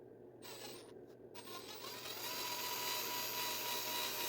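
A small power drill whines as it bores into a molded earplug, a close, high motor tone that starts in short bursts and then runs continuously and louder.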